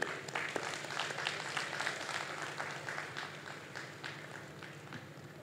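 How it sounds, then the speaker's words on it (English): Sustained applause from a crowd honoring graduates at T.A. Marryshow Community College's 2023 graduation ceremony, a steady wash of clapping at moderate distance with no voices on top. "Can we get a round of applause for our incredible graduates here today?"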